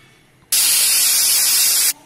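Mustard seeds, cumin and green chili hit hot oil for a salad tempering, giving one loud, steady sizzling hiss close up that lasts under two seconds and then cuts off.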